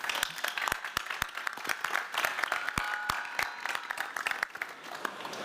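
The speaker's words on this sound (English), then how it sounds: "Round of applause." A crowd at a robotics award ceremony claps steadily in dense, even applause that holds at a moderate level throughout, with a faint voice underneath.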